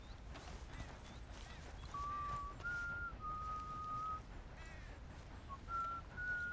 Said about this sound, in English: I mean, if you're hunting, buddy, you definitely should not be whistling.